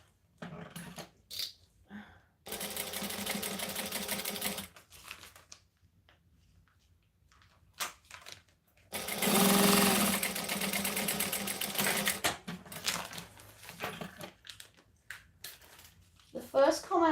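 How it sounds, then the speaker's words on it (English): A sewing machine runs top stitching in two steady bursts, the second longer and louder, with quiet gaps, small handling clicks and speech between them. "I'm going to top stitch"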